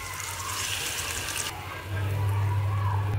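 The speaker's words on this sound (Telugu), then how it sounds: "ఇప్పుడైతే కొద్దిగా వాటర్ వేద్దామండి." Water is poured into a pan of capsicum, potato and tomato curry, a steady splashing gush that grows heavier and louder midway, with no talk over it.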